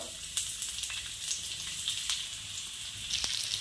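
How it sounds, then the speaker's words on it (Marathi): Onions frying in a little oil for a spicy chicken rassa, a soft, even sizzle with faint crackles and occasional light ticks from stirring, close and quiet, without talk. "पहिला कांदा भाजून घेत आहोत।"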